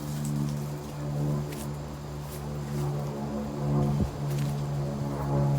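A steady low drone of an airplane passing overhead, continuous and moderately loud, with faint outdoor rustling around it.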